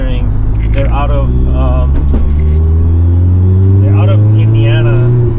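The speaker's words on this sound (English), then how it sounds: "With the exhaust, it sounds nicer." A 2016 ND1 Mazda MX5 Miata with an aftermarket exhaust drives along, its steady engine drone rising slightly in pitch, loud and continuous beneath someone talking.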